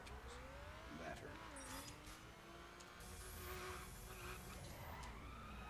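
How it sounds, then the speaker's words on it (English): A RUF 3400K drifts in The Crew: an engine drones while gliding, wavering tyre squeals rise and fall over several seconds, heard fairly faint and steady. "Drifting."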